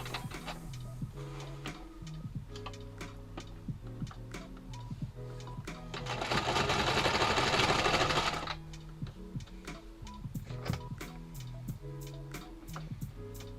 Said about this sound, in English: the sewing machine isn't too loud, right?